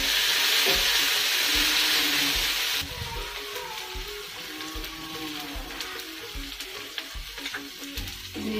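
Chopped tomatoes go into hot oil with lightly browned ingredients for an eggplant bharta. A loud, bright sizzle abruptly drops to a quieter, bubbling fry, with occasional soft scrapes and knocks of stirring.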